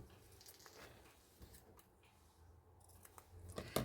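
Paper, part of a mixed media nature-themed craft piece, being cut with scissors, making quiet, close snips and rustles spread irregularly, with a sharper crisp cut near the end and no talking.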